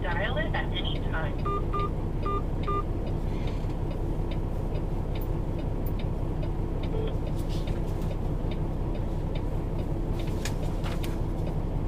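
Telephone keypad tones beep to dial an extension on an automated line, several short evenly spaced beeps heard faintly over a steady rumbling cab engine during a truck delivery run.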